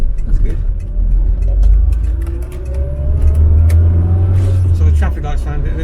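Classic Austin Allegro driving on a winter road, a low engine rumble rising and falling with speed, plus clicks and knocks from inside the cabin; a voice talks briefly.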